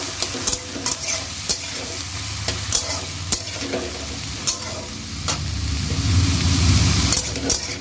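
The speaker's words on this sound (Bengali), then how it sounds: "এই যে একটু ভাজা ভাজা করে নেবো" Onion, chili, eggplant and potato sizzle steadily in a hot pan while a spoon scrapes and stirs them in repeated sharp strokes, close and clear, the frying growing louder toward the end.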